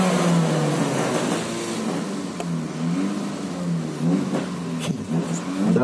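A Honda Jazz drag race car accelerates hard at a drag race, its engine roaring loudly and rising in pitch as it pulls away, with the revs climbing through the run.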